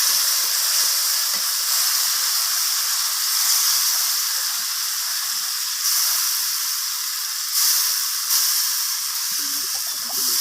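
Tomato paste added to fried spices in a pan for a Bengali mustard pabda fish curry, a continuous close hiss and sizzle with slight surges.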